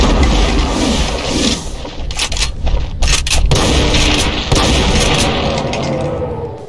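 Heavy quad shotgun blasts in a Doom mod, several loud booming shots in quick clusters over a dense roar of game combat noise, no talk.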